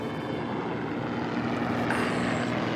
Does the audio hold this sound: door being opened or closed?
no